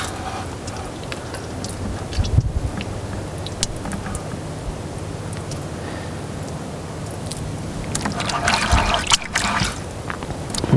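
Deer brains being mashed by hand in water for hide tanning: soft, continuous sloshing and trickling, close and steady, growing a little louder and more splashy toward the end.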